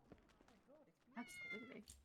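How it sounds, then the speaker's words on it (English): A cat meowing briefly at an indoor community event, a short drawn-out meow rising out of surrounding chatter, fairly close and clear, with voices talking around it. "Oh my god, it's a cat."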